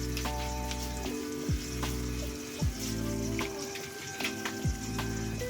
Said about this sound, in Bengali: মশলাটা ভালো করে ফ্রাই করে নেব।